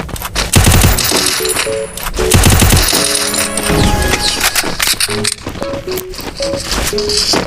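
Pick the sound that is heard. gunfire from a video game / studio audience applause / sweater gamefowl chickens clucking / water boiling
gunfire from a video game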